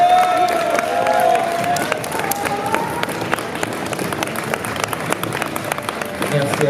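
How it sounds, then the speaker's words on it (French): Audience at a cosplay contest gives a sustained round of clapping and crowd noise, loud and dense at first, then easing into scattered claps as a voice talks over it. "Allez, vous pouvez les applaudir, s'il vous plaît, pour le travail qui a été réalisé."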